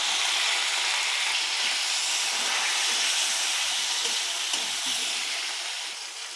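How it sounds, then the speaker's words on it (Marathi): Eggplant pieces frying in hot oil with crackled cumin give a loud, steady hiss and sizzle that fills the whole moment, easing slightly toward the end. "आता वांगी घालू आपण मिक्स करून घेऊ तेलामध्ये"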